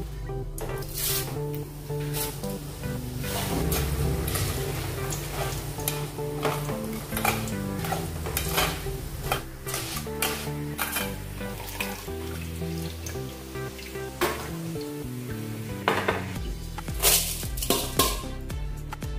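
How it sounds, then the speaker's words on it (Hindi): Flattened poha fries in hot oil in a pan while being stirred for Diwali chivda namkeen, a continuous crackling sizzle with repeated scraping and clattering stirs, loud and close, with no voices. "ये देखिए अपने पोहे तैयार हो गए हैं तलकर"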